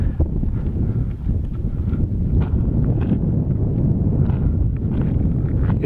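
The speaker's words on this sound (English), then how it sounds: "I'm going into the wind now," Heavy wind buffets the camera microphone outdoors at an abandoned concentration camp site, a constant loud low rumble with irregular gusty thumps.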